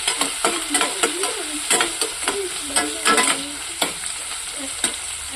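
Onions and tomatoes sizzle in a pan while a spoon scrapes and stirs in quick, repeated strokes, close and steady.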